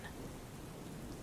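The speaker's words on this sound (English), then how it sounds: "The rain outside created a constant ambient sound that seeped through the stone walls," Steady rain falls outside stone castle walls as a soft bedtime-story backdrop, heard as a faint, even hiss with no clear thunderclap and no talking.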